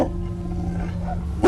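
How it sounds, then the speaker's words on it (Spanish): A dog growls low and continuously at close range, with a short sharper burst at the very end. "Can, detrás de Elsa, avanzaba gruñendo y ojeando a los hombres."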